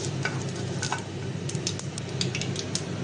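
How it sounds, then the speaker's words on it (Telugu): Tempering spices fry in hot oil in a pan for potato carrot fried rice, giving a continuous crackling sizzle broken by sharp clicks and scrapes as they are stirred. "పోపులు బాగా వేయించుకోవాలి."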